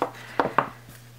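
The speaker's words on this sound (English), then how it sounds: "I'm going to use my wire cutters to trim it off." Wire cutters snipping a small burr off a handmade metal crown: two sharp, close clicks in quick succession, followed by a faint trailing tick over a quiet room hum.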